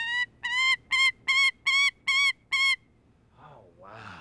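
A falcon gives a loud, close series of seven evenly spaced, piercing harsh calls in a steady rhythm, followed by quieter rasping sounds and a faint voice.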